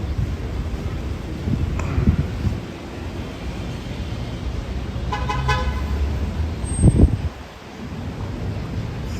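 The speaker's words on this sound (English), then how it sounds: "Guys honking at people when they have the right of way." In street traffic, a car horn gives one short, clear honk midway, over a continuous rumble of passing vehicles and wind, followed by a louder whoosh of a car going by.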